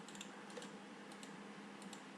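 Soft, quiet keyboard typing on a computer, a continuous patter of light key clicks entering a number, with no voices.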